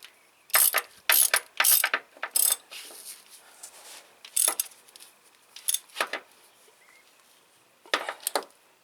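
Metallic clinks and ratcheting clicks come from tightening a screw during a timing belt replacement on a 2005 Hyundai Accent, in several close, sharp bursts separated by short pauses, with no talking.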